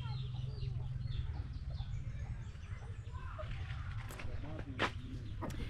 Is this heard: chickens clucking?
yes